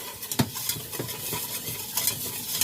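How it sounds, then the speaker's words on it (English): Flour and butter whisked together in a pan for a homestyle mac and cheese sauce, with a rapid, uneven run of scraping strokes and a light sizzle underneath, close and moderately loud. "you want to just whisk your flour and butter together"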